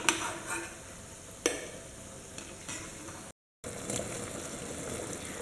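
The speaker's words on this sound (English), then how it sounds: "Now sugar syrup started boiling" Steady bubbling and sizzling of sugar syrup for gulab jamun on the boil with a few clinks of a utensil, close and moderately quiet, broken by a brief silent gap.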